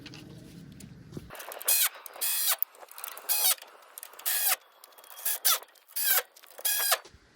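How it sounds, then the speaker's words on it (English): Ratchet tightening control arm bolts on a Can-Am Defender: a series of short, close, bright bursts of rapid clicking, about eight strokes with brief pauses between, alone with no talk. "Now I'm going to tighten up all the control arms."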